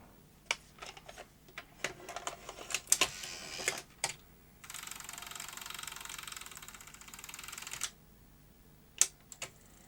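A Sony Betamax SL-C9 video recorder's tape mechanism clicks and clunks, then whirs for a few seconds as it attempts fast forward before stopping with a final click; faint and close, with no talk.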